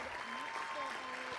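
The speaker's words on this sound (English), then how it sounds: "So please give yourselves a huge round of applause for that amazing accomplishment." Brief audience applause in a hall after a welcome address, a quiet wash of clapping with a voice speaking faintly through it.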